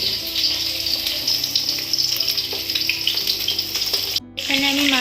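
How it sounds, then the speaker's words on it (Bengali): Fish frying in a pan on a home kitchen stove, giving a loud, continuous close sizzle with crackling bursts, plus some clinks and watery splashes partway through. "এখানে আমি মাছটাও ভাজছি"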